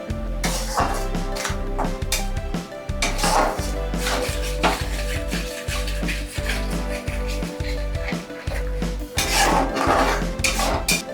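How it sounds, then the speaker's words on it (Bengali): A spoon scrapes and knocks against a pan while chickpea curry with spices is stirred, repeated rhythmic clanks and scraping strokes, close and loud, with a low steady hum underneath. "এবার এটাকে ভালো করে মিক্সড করতে হবে।"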